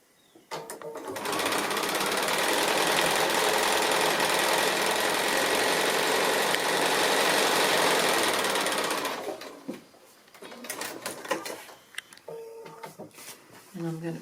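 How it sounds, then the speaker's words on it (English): A sewing machine runs steadily for several seconds, stitching foundation-pieced quilt block pieces together, a close, even whirring hum that stops abruptly, followed by handling clatter and faint talk. "now all I've got to do is stitch those 2 together"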